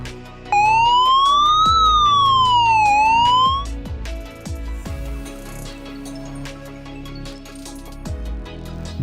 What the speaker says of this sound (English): It uses a magnetic sensor which enables the video doorbell to instantly inform you and play a siren